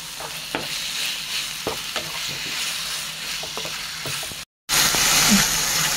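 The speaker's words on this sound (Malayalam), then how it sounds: "ഇതൊന്ന് നന്നായിട്ട് മിക്സ് ചെയ്ത് കൊടുത്തിട്ടേ ഒരു 5 മിനിറ്റ് ലോ ഫ്ലെയിമിലിട്ട് നമ്മുടെ കുക്ക് ചെയ്യാം" Boneless chicken chukka being stirred in a hot pan, a steady close sizzle of frying with repeated scraping stirs, then a brief cut and a louder burst of sizzling.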